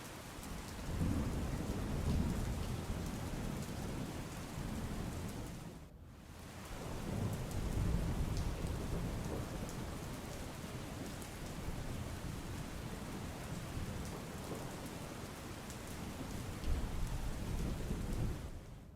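Heavy monsoon rain in South Gujarat pours steadily with deep rumbles of thunder rolling through, briefly dropping away midway before the downpour resumes; no talking.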